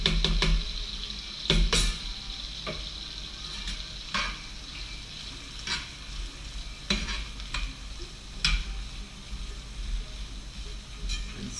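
Crawfish sizzle and fry in melted butter with Creole seasoning, a steady hiss broken by several sharp stirring scrapes and clinks against the pan, close and moderately loud, with no talking.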